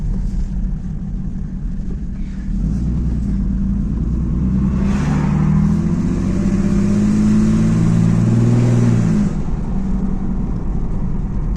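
A Mercedes OM606 diesel engine makes a strange noise while driving, a loud continuous low rumble and drone that swells in the middle as the car turns a corner between buildings, with no talk.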